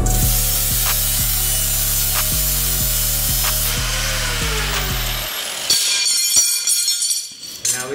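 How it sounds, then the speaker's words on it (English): A drill grinds steadily through two tacked-together steel plates for about five seconds in strong pulsing bursts, then stops, followed by clanks and scraping of loose metal. "make my marks on one set and drill right through both of them"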